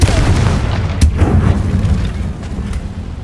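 A Confringo fire spell explodes in the game Hogwarts Legacy, a loud booming blast with a sharp crack around the one-second mark over a dense, rumbling low-end roar that continues throughout.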